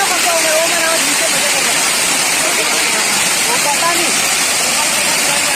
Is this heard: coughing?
no